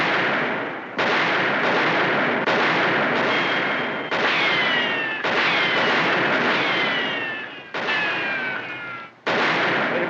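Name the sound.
gunfire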